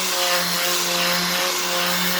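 Power tool scouring the last rust off a metal rail plate, a steady dense abrasive whir with a constant motor hum held at an even level throughout.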